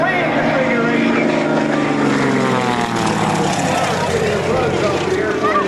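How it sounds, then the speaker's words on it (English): A propeller airplane performs aerobatics at an Air National Guard open house airshow, its engine droning loudly and continuously with a shifting, Doppler-like pitch sweep as it passes, while an announcer talks over it. "this aircraft is being flown in the plane configuration"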